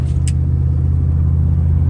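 Chevrolet Silverado pickup's 5.3 V8 with long tube headers and a 3-inch Magnaflow exhaust, rumbling loud and close at a steady deep idle with no voices.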